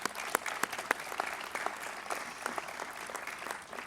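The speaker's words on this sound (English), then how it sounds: "So let's give them a round of applause." Moderate applause from an audience at a Memorial Student Center grand opening ceremony, for the design firms and subcontractors: a dense patter of many hands with a few sharper, louder claps standing out, steady throughout and somewhat distant.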